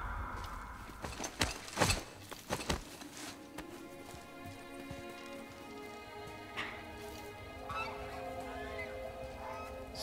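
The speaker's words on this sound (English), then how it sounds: "Squawk." A bird squawking in the video game God of War (2018), several loud, harsh honking calls clustered near the start, followed by quieter squawks over a steady background of rushing water or rain.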